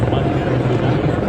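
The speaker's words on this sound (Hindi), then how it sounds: "हेलीकॉप्टर आ गया हमारे ऊपर" A helicopter flies overhead at an Indian Army parade, giving a loud, steady low drone with a throbbing rotor texture, while crowd voices and talk carry underneath throughout the brief moment.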